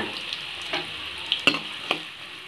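Finely chopped onion and cumin seeds crackle in hot oil, a tempering for bread masala. A close, steady sizzle runs under a few sharp clinks of stirring.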